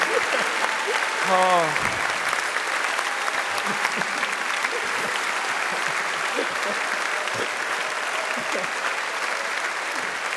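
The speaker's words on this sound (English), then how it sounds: "Round of applause" An audience at a PAX West 2017 convention panel claps steadily and evenly for several seconds, with a brief exclamation from a voice near the start.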